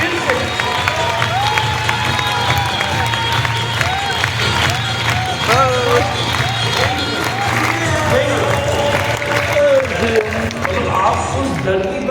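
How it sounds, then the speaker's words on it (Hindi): Loud, dense crowd noise with cheering, whoops and clapping runs throughout at a live stage event, music and voices mixed in. "बार जोरदार तालियां बजाओ इन लोगों के लिए"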